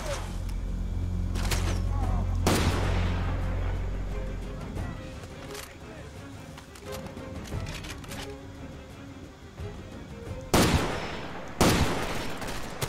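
Far Cry 2 gunfire: scattered sharp shots crack out at intervals, with a loud cluster near the end, over a low rumbling background and game ambience.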